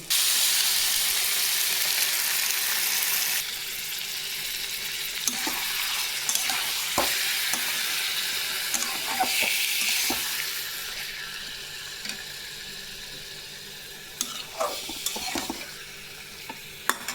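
Chicken goes into a hot pan of browned onions and sizzles loudly, the hiss easing after a few seconds, with scattered clinks and scrapes of stirring and no talk.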